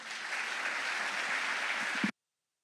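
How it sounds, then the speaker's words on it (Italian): Warm applause welcomes the pilots of the Frecce Tricolori, Italy's national aerobatic team, at a homecoming ceremony in Istrana, a steady dense clapping that holds for about two seconds and then cuts off abruptly. "Accogliamo con un caloroso applauso i piloti della Pattuglia"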